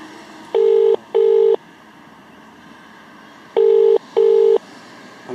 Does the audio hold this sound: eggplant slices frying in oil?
no